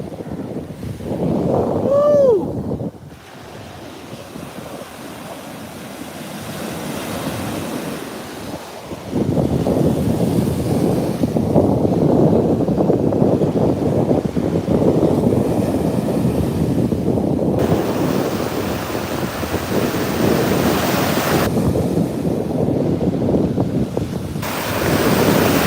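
Ocean waves wash onto a beach in a continuous loud rush, with heavy wind buffeting the microphone and a brief tonal sweep near the start; no voices are heard.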